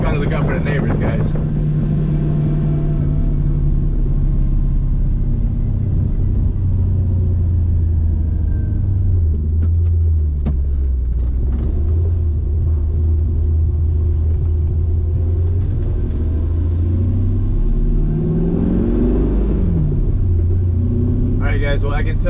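M113 armored personnel carrier engine running steadily, a deep continuous rumble with slowly shifting pitch, close by and loud, with brief sharp knocks near the start and end.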